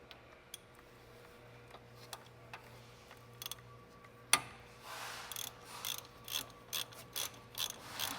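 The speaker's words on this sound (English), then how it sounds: "And then we grab the ratchet one more time." Ratchet tightening brake caliper bolts on a Lexus LX470, first sparse isolated clicks, then quicker runs of ratcheting strokes in a rhythmic pattern, close and clear with no talking.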